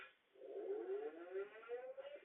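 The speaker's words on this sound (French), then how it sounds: "la deuxième sirène te donne quelques minutes maximum pour trouver un abri" Civil defense warning siren in a game setting, a steady wailing tone that rises slowly and holds, loud and continuous with no talking over it.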